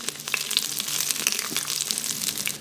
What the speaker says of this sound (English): fry the garlic, ginger, and star anise for about 1 to 2 minutes